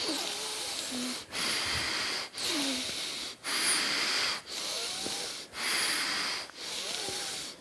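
Slow, deep meditative breaths rise and fall in long even cycles, each airy hiss lasting about a second with brief pauses between, close to the microphone.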